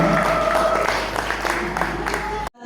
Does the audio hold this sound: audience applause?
yes